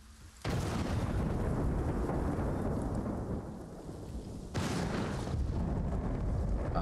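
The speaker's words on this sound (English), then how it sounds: "Ah, thunder doesn't go this close." Thunder in the video game Ghost of Tsushima: a loud, close rolling rumble that sustains for several seconds, then a second heavy crack and roar, with no voices.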